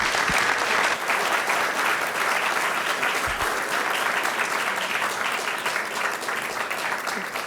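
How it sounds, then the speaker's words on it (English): A business and investment forum audience applauds its panelists, thick continuous clapping from a large crowd that holds steady and full for several seconds before easing slightly. "Huge round of applause for our panelists today."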